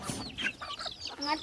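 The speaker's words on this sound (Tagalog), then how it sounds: "Manok ko lang." Several native chickens cluck and chirp nearby at feeding time in the mountains, a short, busy flurry of overlapping calls.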